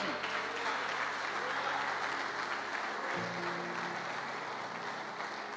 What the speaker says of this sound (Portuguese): Você pode adorar, aplauda Ele aqui hoje.